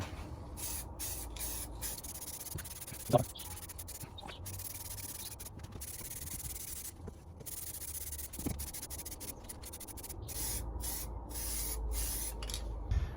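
Aerosol paint sprayed in repeated bursts onto Volkswagen Crafter brake discs, hissing puffs separated by short gaps, with a steady low background rumble and a few faint knocks.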